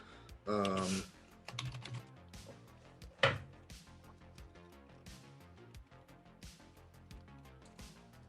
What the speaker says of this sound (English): I don't like all the typing he's doing.